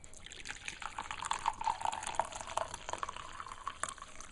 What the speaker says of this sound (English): once the ginger has had time to infuse, I'll pour it into a cup